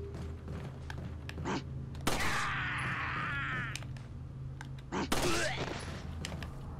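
Gunfire in Resident Evil 4, two sharp shots spaced a few seconds apart, each followed by a ringing, reverberant tail, set against low game ambience and faint background noise.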